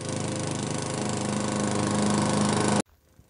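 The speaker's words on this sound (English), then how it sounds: "Foxy must be mowing the grass." A lawn mower engine drones loud and steady for nearly three seconds, then cuts off abruptly into near silence.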